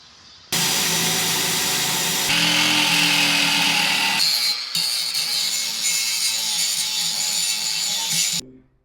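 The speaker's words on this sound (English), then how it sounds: "what I'm going to do is drill a series of holes out around this hole" Power drill boring holes in the steel smokestack of an Old Country Brazos offset smoker, a loud steady whine running nearly nine seconds, shifting pitch as the bit bites through metal before cutting off abruptly.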